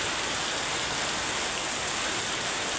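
Dense, heavy rainfall roars as a constant close wash of noise, loud and uniform with nothing else standing out.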